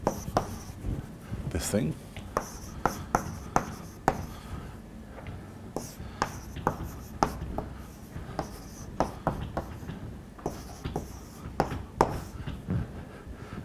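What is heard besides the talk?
chalk writing on a board during a lecture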